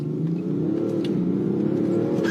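A sports car accelerates hard from a standstill, its engine note rising steadily in pitch as it pulls through the revs, loud and close with no talk.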